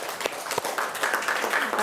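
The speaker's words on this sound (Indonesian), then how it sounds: "Berikan tepuk tangan untuk Firda." Classroom students applauding a classmate, a brief patter of clapping at moderate level that starts with a few sharp claps and thickens into steady applause.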